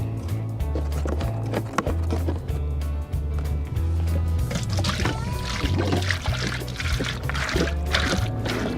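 Liquid glugs and splashes continuously as cooking oil is poured into a pot for deep frying a turkey, with a rhythmic, bubbling gurgle throughout.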